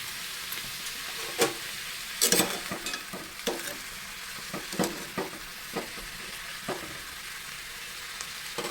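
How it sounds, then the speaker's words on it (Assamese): Food sizzles steadily in a pan while a utensil scrapes and taps against it in irregular bursts, close by. "একেলগে ফ্ৰাই কৰি ল'ম আমি"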